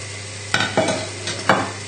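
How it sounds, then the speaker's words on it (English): Onions tossed into warm oil in a pan for a goat's cheese tart filling, giving a soft steady sizzle broken by a few distinct stirring scrapes and clacks, close and alone. "And now we can throw in the onions."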